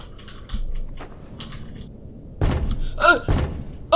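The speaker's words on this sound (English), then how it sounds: "Oh, he knocked." Knocking on a door in the horror video game The Joy of Creation: a few dull, heavy thuds spaced apart, fairly loud and close, over a quiet low background hum.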